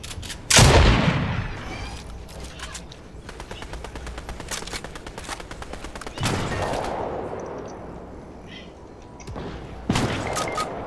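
Rapid bursts of video game gunfire with sniper shots, loud and close, including a sharp heavy blast near the start and another later, over a constant dense crackle of automatic fire.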